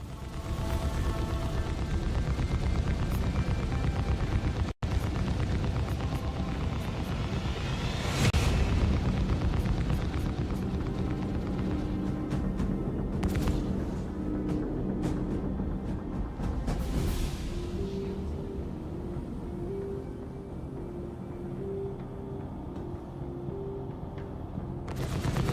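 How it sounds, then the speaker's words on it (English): Side-mounted spaceship guns in the video game Star Citizen firing continuously, a dense booming barrage with heavy low rumble that eases slightly over the stretch, with a few sharper bursts standing out. "I'm swap over to the other guns on the sides then."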